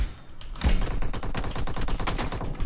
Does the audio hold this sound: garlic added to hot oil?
no